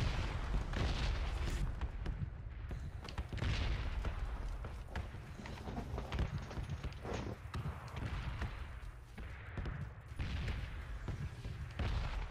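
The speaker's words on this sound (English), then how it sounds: "you heard those gunshots?" Repeated gunfire cracks and booms in a noisy PUBG game mix on Xbox One, shots scattered across the clip at moderate distance with a constant rumbling background.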